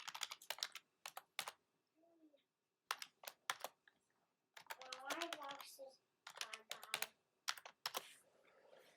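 Bursts of key clicks from a computer keyboard as a password is typed, quick irregular clusters separated by short pauses, close and clear, with a soft voice speaking briefly in between.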